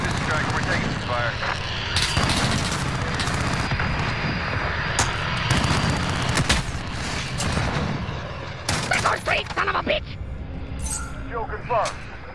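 Gunfire in the shooter Modern Warfare, with bursts of shots and aircraft-like engine roar under a busy battle mix, and radio-style voices talking over it throughout.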